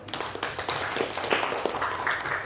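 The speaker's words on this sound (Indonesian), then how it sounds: "tepuk tangan untuk kelompok 1" A classroom group applauds a student team, a short burst of scattered, fairly quiet clapping with uneven rhythm and no voices.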